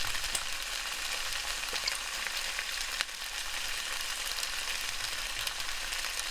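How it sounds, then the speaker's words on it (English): Onion and pepper sauté in olive oil in a pan, giving a soft, continuous, even sizzle with faint crackles and no voices. "I'm going to be cooking the onion and pepper. You might need a little more olive oil in the pan while this is sauteing."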